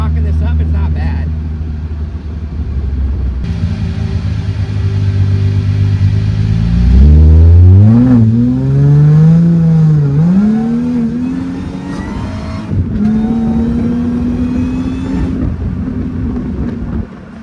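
A supercharged Mercedes SLK320 with a new intake and exhaust accelerates hard, its engine note sweeping up through the gears with a supercharger whine riding on top, loud and close throughout.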